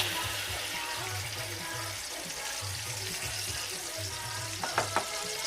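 Ingredients sizzling in hot oil for a peanut sauce, a steady close frying hiss with low bubbling and a couple of sharp crackles near the end, no talk.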